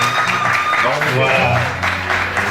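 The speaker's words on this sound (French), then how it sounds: "ça mérite des applaudissements s'il vous plaît." Audience applause at a sponsorship presentation for a children's charity, clapping steadily under a voice that speaks over it throughout.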